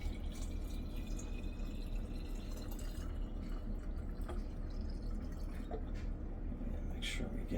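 Sugar-water nectar is poured into a glass hummingbird feeder, a faint steady stream with soft drips and trickles close by.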